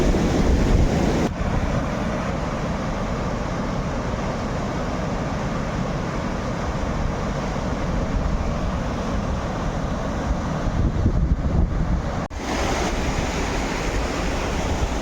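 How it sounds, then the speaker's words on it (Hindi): A river on the Har ki Dun trek rushes over big rocks, a loud, continuous, close roar of water with some wind buffeting the microphone. "इस नदी की जो यह आपको साउंड या आवाज़ सुनाई दे रही है"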